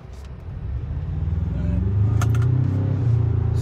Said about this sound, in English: We'll just see how it goes accelerating from a zero start